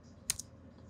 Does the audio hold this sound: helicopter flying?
no